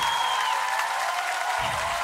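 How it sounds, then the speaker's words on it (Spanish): Audience applause at a live cumbia concert, a dense, steady wash of clapping and crowd noise filling the whole stretch, with a sustained tone from the band ringing underneath. "¡Aplauso fuerte a Julieta,"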